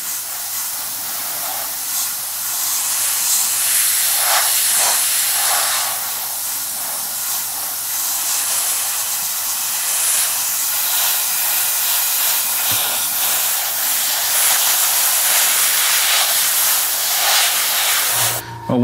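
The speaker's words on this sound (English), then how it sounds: "let's go back to spraying" A continuous airy spray hiss runs nearly unbroken as paint is sprayed onto a Sturmgeschütz III Ausf B scale model, with a brief pause and a click at the very end.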